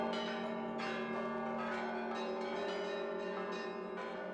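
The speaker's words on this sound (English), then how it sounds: "The bells can ring sadly, solemnly, or joyously on a good day" Russian church bells rung by students clang in overlapping strikes, with bright ringing tones and long sustained hum between hits, fairly distant and alone.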